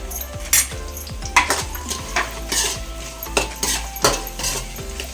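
Chopped ginger and garlic fry in a pan for chicken gravy, sizzling steadily while a metal utensil stirs and scrapes against the pan in repeated close clinks and knocks.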